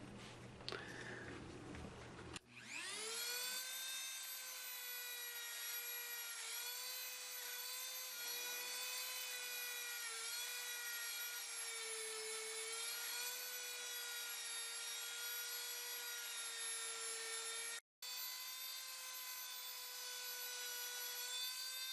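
A motorized buffing wheel loaded with hard buffing compound polishes a refinished wooden SKS rifle stock, giving a loud, continuous high whine with a steady tone and one brief dropout near the end.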